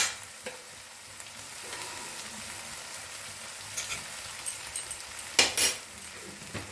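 Cabbage ghonto with a spoonful of ghee, dry chilli and garam masala stirred in a pan, a soft steady sizzle with spatula scrapes and clinks growing louder near the end.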